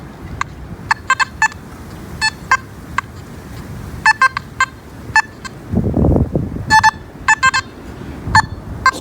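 A metal detector sweeps over a dime buried about 9.5 inches deep, sending out repeated short high electronic beeps in irregular clusters over a low background rumble, with a brief louder thump midway.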